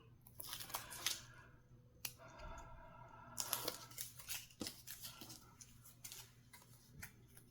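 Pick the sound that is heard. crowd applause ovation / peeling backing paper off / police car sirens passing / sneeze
peeling backing paper off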